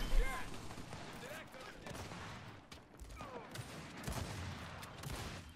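Gears 5 video game gunfire rattles in bursts and scattered shots amid game effects, at a moderate level, with a person talking over the action.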